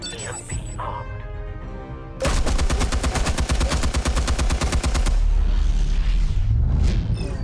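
Rapid bursts of explosive and incendiary gunfire in Batman: The Telltale Series, a loud, evenly spaced string of close shots lasting a few seconds, then a rumbling blast.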